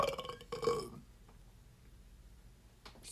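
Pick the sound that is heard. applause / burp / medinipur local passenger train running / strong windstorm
burp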